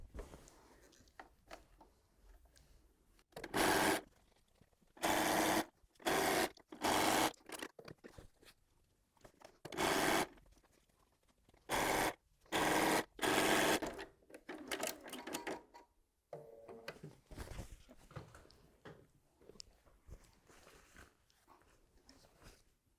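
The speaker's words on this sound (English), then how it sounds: "So I'm just going over to the sewing machine to do those." A sewing machine runs in several short bursts of rapid mechanical stitching, separated by pauses and softer handling noises, fairly close and loud.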